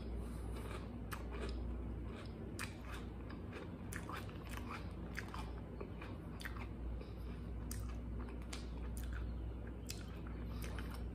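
Close, quiet crunching and chewing of Magic Spoon cereal, with many small irregular bites and crunches over a soft steady background.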